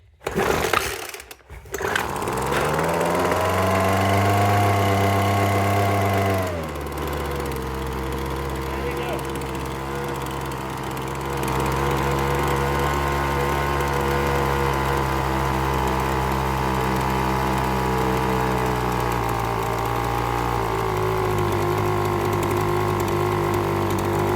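A Weed Eater FL1500 gas leaf blower with a small two-stroke engine sputters as it is pull-started, then catches and runs at a loud, steady buzzing idle that shifts pitch slightly as it keeps running.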